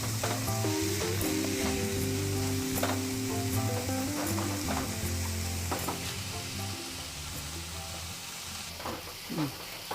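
Mango pachadi ingredients cook in a pan with a steady, close sizzle, while soft stirring scrapes and clinks come through over a background tone.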